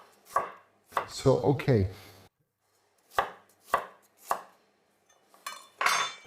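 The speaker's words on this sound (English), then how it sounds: "And now just cut them into slightly larger wedges." A knife slices squash into larger wedges on a board, giving several sharp separate chops with pauses between them, close and fairly loud, with a short stretch of continuous cutting near the start and a brief spoken remark.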